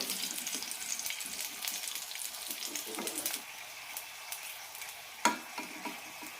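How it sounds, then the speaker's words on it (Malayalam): Sweet potato slices frying in hot oil, a busy crackling sizzle that runs strongly at first, then eases to a quieter bubbling with a few sharp pops and clatters near the end. "ബാക്കിയുള്ളത് കൂടി ഇതുപോലെ വറുത്തെടുക്കാം."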